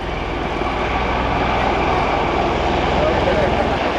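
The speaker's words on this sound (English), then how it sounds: "He's going to work his pedals and turn the aircraft around." CV-22 Osprey tiltrotor turning around during a demonstration at the 2007 Dayton airshow, a steady broad engine and rotor roar from the distance with an announcer talking over it.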